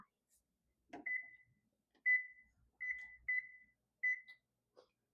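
A kitchen oven's control panel chirps as it is set to preheat to 375 degrees: a quick button press, then five short, clear electronic beeps in an uneven rhythm, close and fairly loud in an otherwise quiet room.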